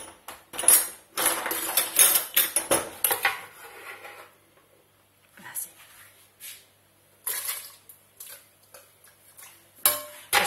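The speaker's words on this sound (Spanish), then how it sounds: "Pues me quedo haciendo esto, picando la cebolla" Knife chopping onion for a vegetable soup in a home kitchen; close, irregular bursts of sharp taps and clicks separated by short quiet gaps.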